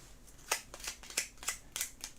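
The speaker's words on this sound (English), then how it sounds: "I will just shuffle these decks quickly here." A deck of board game cards being shuffled by hand for a tabletop game: about six quick, crisp riffling snaps in a steady rhythm, faint and close, with no voices.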